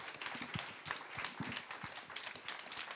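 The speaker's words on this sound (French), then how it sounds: "c'est peut-être qu'il est temps de vous applaudir" An audience claps at the close of a talk on gender equality, with faint, distant scattered applause running steadily throughout and no speech over it.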